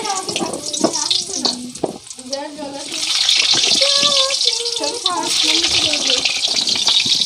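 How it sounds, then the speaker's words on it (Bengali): Potatoes frying in a pan on a stove, a steady hiss and sizzle rising louder in the second half, with a person speaking over it throughout. "এখন আলু ভাজা হচ্ছে"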